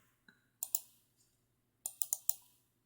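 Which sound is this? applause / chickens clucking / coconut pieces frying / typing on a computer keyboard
typing on a computer keyboard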